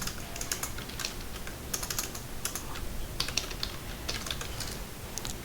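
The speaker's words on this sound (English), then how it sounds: "So I'll type" Steady typing on a computer keyboard while entering code for a Django hotel booking web app, with quick uneven bursts of key clicks continuing alone throughout, fairly close and moderately loud.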